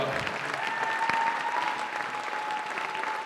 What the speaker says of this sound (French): Applaudis le roi des rois.